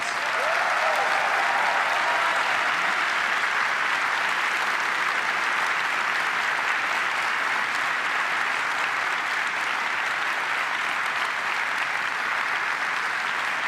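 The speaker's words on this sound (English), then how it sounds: "Let's give them a round of applause." A large keynote crowd at Apple's WWDC conference gives a sustained, loud, even roar of applause that holds steady without pause.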